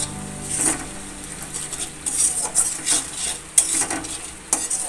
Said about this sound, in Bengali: এটাকে ভালো করে মিক্সড করে নেব